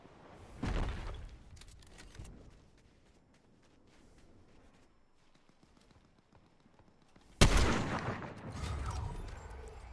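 Gunfire in the Fortnite battle royale, a loud sharp burst near the start and a louder blast around the middle of the span, followed by a dense rattling spell of shots and impacts over a quieter rumbling background.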